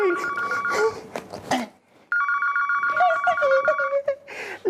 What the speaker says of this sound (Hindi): शायद लप्पी का फोन है।